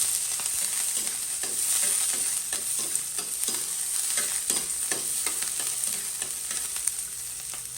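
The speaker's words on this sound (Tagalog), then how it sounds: "Dahil mainit na ang mantika, gisa natin ang sibuyas." Chopped onion sautés in hot oil in a pan, giving a steady bright sizzle with soft scraping stir strokes scattered throughout at close range.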